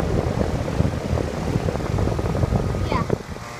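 An air conditioner fan running at a model home gives a close, steady whirring drone with rhythmic blade whoosh, fairly loud throughout, and a brief faint tonal squeal near the end.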